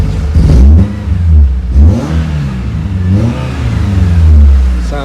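A Ford Puma S1600 rally car engine revs hard up close, with several sharp throttle blips rising and falling over a deep, loud idle.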